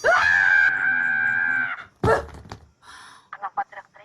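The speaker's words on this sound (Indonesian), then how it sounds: "Kenapa teriak-teriak tuh?" A person screams loudly and long, then gives a shorter second shriek, followed by faint voices.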